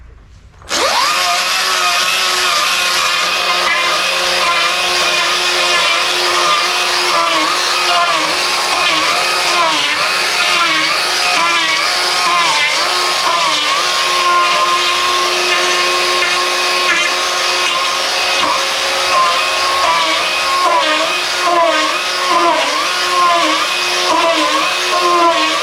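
A Log Wizard debarker strips bark from a log with a loud, steady, high-pitched grinding whine that starts abruptly and holds continuously, wavering slightly as the cutter bites into the wood.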